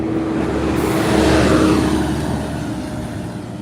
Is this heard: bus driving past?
yes